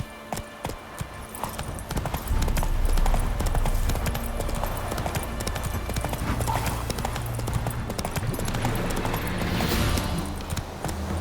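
Roach, a horse in The Witcher 3 video game, gallops with steady rapid clip-clop hoofbeats over a continuous bed of game ambience and music, close and fairly loud throughout, with a brief whinny-like rise near the end.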